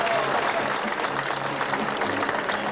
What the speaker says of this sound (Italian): Un applauso per Giovanni